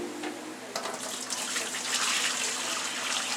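Tap water runs into a kitchen sink sprinkled with baking soda during cleaning, a steady close splashing rush that grows slightly louder and fuller as it continues.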